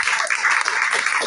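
A church congregation applauding during a prayer service, a continuous, dense wash of many hands clapping, loud and steady throughout the brief moment.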